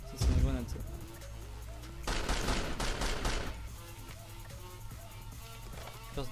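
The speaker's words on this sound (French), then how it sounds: "ça c'est une grenade ça" A grenade goes off in the blocky shooter Blockstorm, a loud burst of explosive noise lasting about a second amid scattered game gunfire, with someone talking faintly over it.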